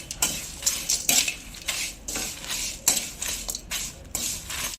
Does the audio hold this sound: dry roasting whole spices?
yes